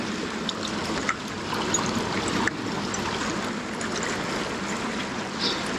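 River water flows past a bank on a trapline, a steady close rush and trickle with a few faint knocks. No talking.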